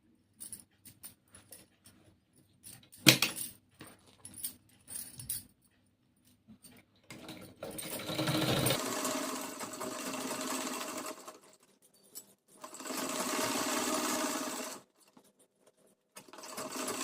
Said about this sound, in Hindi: यहाँ से मैं सिलाई स्टार्ट करती हूँ